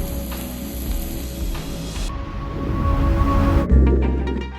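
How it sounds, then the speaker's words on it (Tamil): Country chicken fries in butter on a tawa, giving a loud, steady, close sizzle that swells and crackles throughout. "தவாலேயே பட்டர் போட்டு நல்லா ஃப்ரை பண்ணிடுங்க"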